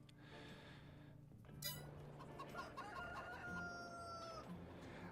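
A rooster crows and clucks among chickens in the Farming Simulator 22 video game, with short repeated clucks and a drawn-out crow amid a busy, fairly faint farmyard background.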